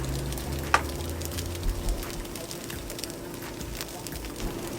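French toast frying in a pan, the pieces separated and left to cook: a steady low sizzle with soft crackles throughout, one small sharp tick near the start, no talking.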